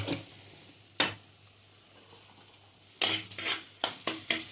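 Fried eggplant being stirred with salt in a pan for a vegetarian Bengali begun sundori, quiet background sizzle punctuated by sharp spatula knocks, then a quick run of scraping, clattering strokes.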